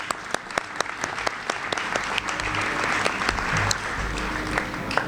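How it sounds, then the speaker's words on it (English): Audience clapping at a grocery market grand reopening ceremony, a dense burst of many hands building and holding steady, moderately close, with a faint murmur of voices underneath. "Let's give them a round of applause."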